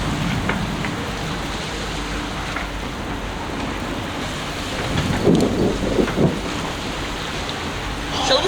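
Stormy weather at sea near St Lucia: steady rain and gusting wind on the boat, with a low rumble of thunder swelling around the middle and fading again, no voices.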